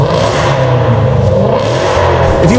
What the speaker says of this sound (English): And that amazing QuickSilver exhaust sounds like this.